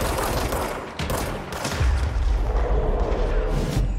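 Continuous heavy gunfire mixed with booming grenade launcher blasts in the video game Control, a dense, loud barrage with deep thumping impacts layered throughout.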